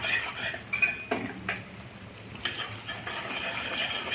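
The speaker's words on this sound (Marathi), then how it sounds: "आता आपण शिजवलेले हरभरे आणि शेंगदाणे घालत आहोत." Cooked chickpeas and peanuts are tipped into a pot of peanut and dried chickpea curry, with metal spoon scrapes and clinks against the pot and a soft simmer underneath.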